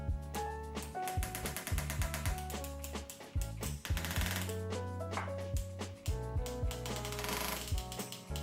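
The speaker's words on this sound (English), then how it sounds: "Then you finish up with a hammer handpiece." Rapid, sharp metallic tapping of a hammer handpiece working a silver bezel on a stamped silver pendant, fast bursts of close, loud clicks with short pauses between runs.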